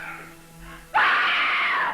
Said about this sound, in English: There's a lot of women screaming in these.